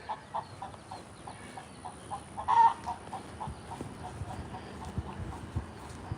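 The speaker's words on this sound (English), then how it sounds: "Chickens and pigs all the way in the back." Chickens clucking in short repeated bursts at a moderate distance, with one louder squawk partway through and faint background noise throughout.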